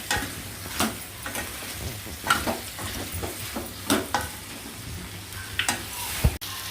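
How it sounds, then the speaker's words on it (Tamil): Dried anchovies sautéing in a pan for a Tamil-style fish curry, with a steady sizzle under repeated scrapes and stirs of a utensil, a sharp clack near the end. "ஒரு 2 நிமிஷம் இதை அப்படியே வதக்கி விட்டுக்கலாம்"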